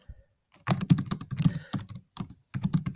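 Keyboard typing while entering text into a text box on a computer: close, clattery bursts of quick keystrokes in several short runs with brief pauses between them, no talking.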